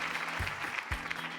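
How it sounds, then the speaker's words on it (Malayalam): Moderate clapping from a reality game show audience, fairly soft and even, with a couple of low thumps breaking through the brief burst. "നല്ലൊരു കൈയടി."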